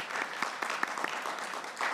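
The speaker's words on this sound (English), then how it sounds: "And now we can all applaud" Brief burst of audience applause for sponsors at the 2021 Goodwill Awards, a steady crowd clapping with a few sharper individual claps standing out.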